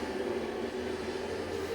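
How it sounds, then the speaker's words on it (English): Heavy trucks pass outside on a New York street, a steady low, rumbling roar of traffic heard faintly and continuously from indoors with no voices. "Fucking trucks out here in New York."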